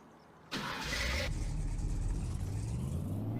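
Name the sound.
truck engine in the video game Farming Simulator 25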